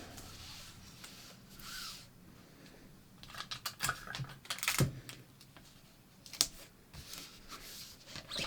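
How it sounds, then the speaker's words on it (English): Tape is pulled and pressed down to hold fabric flat while fitting a garment, giving a few quiet crackling and tearing bursts with soft handling rustles, close by and with no talk. "I'm just going to tape this flat."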